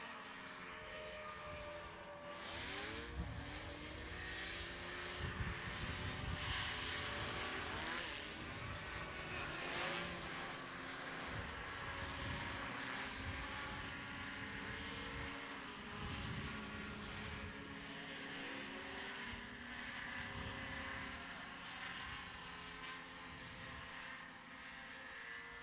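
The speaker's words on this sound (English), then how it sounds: "Here comes Callum Beale, stretching the legs on that Formula One." A Formula One class racing hovercraft roars past at a race meeting on a farm circuit, its engine and thrust fan droning loudly and continuously with rising and falling pitch as the craft runs down the course.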